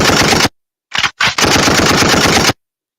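Loud rapid-fire gunshot sound effect in bursts: a rattling volley, a sharp silence, two quick short bursts, then a longer sustained rattle that cuts off abruptly.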